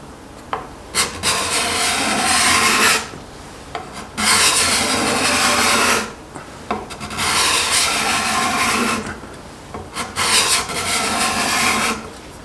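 An Accu-Burr burnished card scraper takes wood shavings in four long rasping passes separated by short pauses, each stroke close and loud, with no talk.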